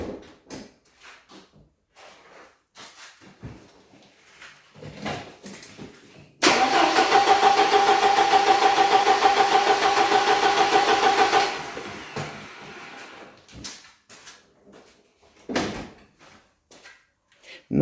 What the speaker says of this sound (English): the tsak-tsak sound from the ICV, that is going to be ignition on